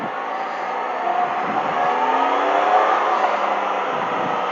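Engine of a 2020 Can-Am Spyder RT Limited three-wheeler with a 1330 engine, accelerating with a steady, loud, close drone that swells slightly and holds throughout.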